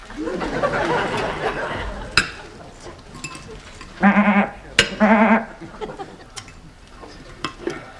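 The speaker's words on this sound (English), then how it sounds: "But what do you expect with that goat in there?" A goat bleats twice in quick succession, loud and near, after a stretch of people talking indoors in a caravan, with sharp knocks around the calls.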